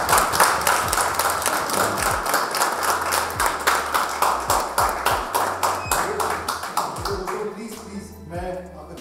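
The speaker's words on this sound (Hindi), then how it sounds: "मैं चाहूंगा एक बार ताली हम थोड़ा खड़े होकर बजा लें जेपी सर के लिए" A seated training-session audience in a sales seminar hall breaks into loud, sustained applause, many hands clapping in steady rapid bursts that carry on for several seconds before thinning out near the end.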